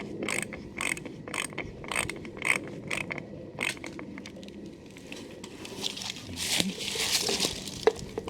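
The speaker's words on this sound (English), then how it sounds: "so we're just unscrewing the trap" A rat trap is unscrewed in a series of rapid, faint ratcheting clicks, followed by rustling and handling noises, all close and quiet.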